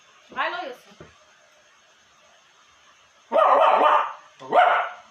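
A person's voice imitating a dog barking: one short bark, then two longer throaty barks after a pause, close and loud against near silence.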